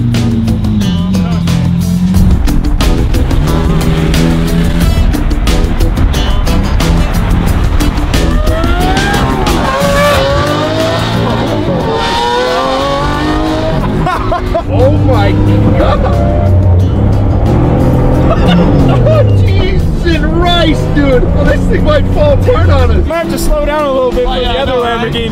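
A modified fake Lamborghini on a drive revs hard and loud, its engine pitch sweeping up and down through repeated pulls, with excited voices and crowd chatter mixed underneath throughout.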